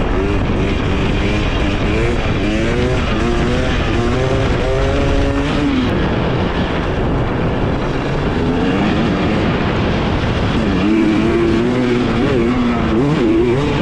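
A 2023 Husqvarna TX300 two-stroke dirt bike engine runs loud and close throughout while being ridden, revving up and down in continuous rising and falling pitch sweeps with no talking.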